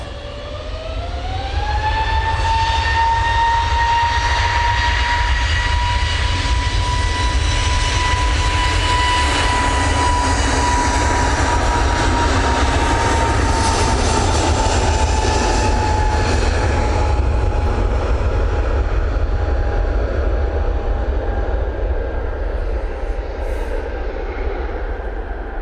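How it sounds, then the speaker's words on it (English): An EasyJet Airbus A320neo jet takes off at Manchester Airport, a loud, sustained engine roar with a rising then steady whine that builds quickly and holds, fading slightly toward the end, with no talk. "EasyJet A320 Neo, now on the roll."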